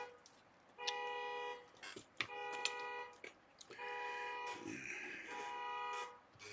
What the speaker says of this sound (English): There goes the honky horn.